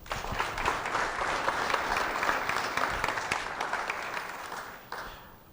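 Audience applause at the Sobo Squash product launch in Malawi, a dense steady clapping from a sizeable crowd that holds for several seconds and then thins out toward the end.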